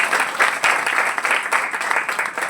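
Audience at an Amway open meeting in Prayagraj breaks into sustained, dense applause, many hands clapping together loudly and evenly for a couple of seconds.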